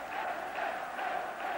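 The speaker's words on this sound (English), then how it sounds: "Norwegian crowd already beginning to celebrate" A Norwegian football crowd at a 1982 World Cup qualifier against England celebrates late in the match, a faint, distant, steady roar of massed voices swelling in gentle waves.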